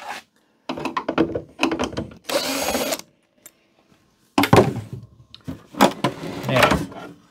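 Power screwdriver backing out the last screw at the base of a vintage computer CRT monitor case: several short whirring bursts, close and loud, separated by brief pauses with small handling knocks.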